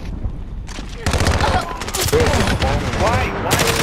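Rapid automatic gunfire in the video game Call of Duty: Modern Warfare, dense overlapping bursts of shots that keep going loud and close, with a player's voice talking over the barrage.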